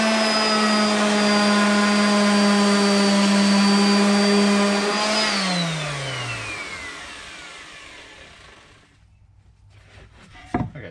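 A power sander running on a wood sign gives a loud, steady motor whine for about five seconds. The pitch then falls away as it spins down, leaving a faint hum and a couple of soft knocks at the end.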